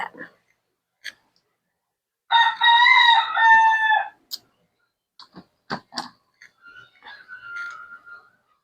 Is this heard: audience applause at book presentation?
no